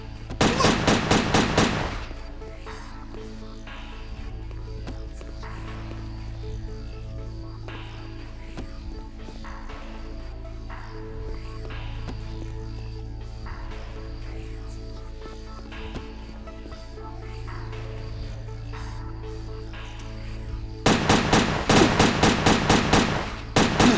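Rapid bursts of gunfire open and close a Headhunter video game training session. Between the loud, close volleys there is quieter game ambience, and a person talks over parts of it.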